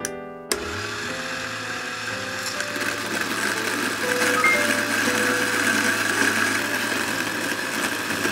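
A coffee grinder grinds beans to a coarse setting, a steady loud motorized whir with gritty crunching that starts with a sharp click and continues close and unbroken.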